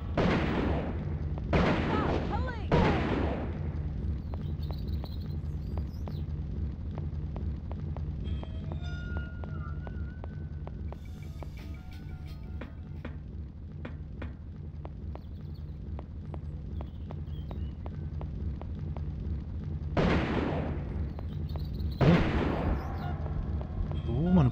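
Gunfire in the PS1 game Urban Chaos bursts out in a few sharp volleys at the start and again near the end, with quieter shuffling and background noise between.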